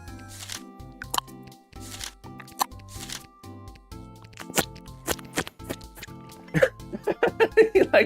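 A person imitates game clicking sound effects with their mouth, making a series of sharp close clicks and pops with short gaps, speeding into a quicker run near the end.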